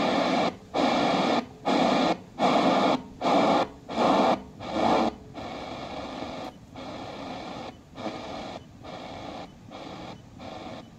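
A Sony Walkman SRF-M37W portable radio being tuned across the AM band toward 1340, with bursts of loud static that chop on and off, then a steadier hiss of noise with faint fluctuating signal, close and fairly loud.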